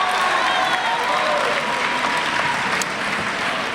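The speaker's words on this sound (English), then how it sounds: "Clap." Audience applause at a graduation ceremony, a dense, steady wash of many hands clapping that holds evenly loud throughout with no voices standing out.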